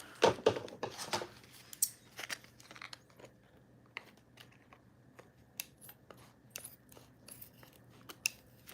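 Scissors snipping through sealed plastic packaging of a Dromaeosaurus toy figure, a cluster of crisp close cuts at the start followed by scattered crinkles and sharp clicks.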